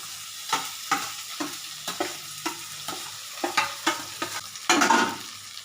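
Small tangra fish fry in hot salted oil, with a steady sizzle and a run of rhythmic clinks and scrapes from a spatula, ending in a louder burst of spitting oil.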